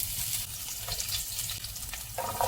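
Garlic frying in coconut oil in a home kitchen for egg fried rice, giving a steady, close crackling sizzle that runs unbroken through the clip.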